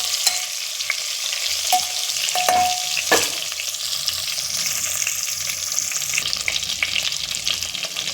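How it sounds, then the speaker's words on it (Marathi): Eggplant pith vangi sautéing on low gas, a continuous close sizzle with stirring scrapes and a brief clink or two, some running-water hiss mixed in, no speech. "पाच मिनटं परतून घ्यायचं पाच दहा मिनटं कमी गॅसवर"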